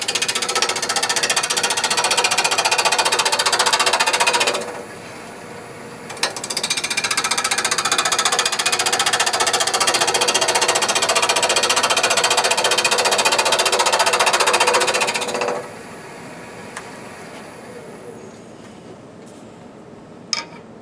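A wood lathe turns a four-sided jar with a steady, loud, rough whir that drops away briefly, returns for about nine seconds and then quiets to a faint hum near the end.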